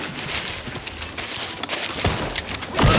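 Gunfire in the video game Outer Worlds 2, a dense stream of sharp shots and impacts over a noisy battle background, growing louder toward the end.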